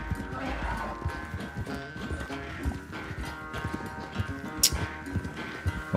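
In the video game Red Dead Redemption 2, a horse's hooves clip-clop in a quick galloping rhythm over a layer of game music and ambience, with one sharp clatter partway through.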